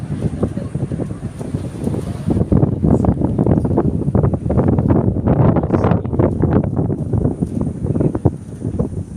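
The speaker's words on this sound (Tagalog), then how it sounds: "Lakas ng hangin." Strong, steady wind roars across the microphone aboard the Ngong Ping 360 cable car, loud and buffeting with constant low rumble and gusty bursts.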